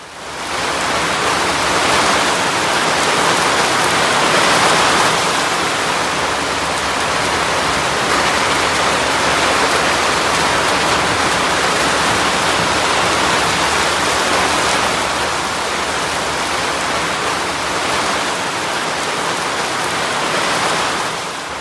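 Heavy pre-monsoon rain with stormy winds in Chiplun, Ratnagiri: a loud, dense, unbroken downpour hissing steadily throughout, with no voices.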